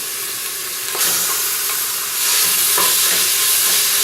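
Bacon frying in a pan for a Brazilian feijoada, giving a steady close sizzle and hiss with a brief stir partway through and no voices.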